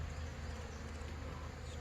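Honeybees at a fairly weak hive make a steady, dense buzz that holds unchanged from start to end, close by and moderately loud, with no voices.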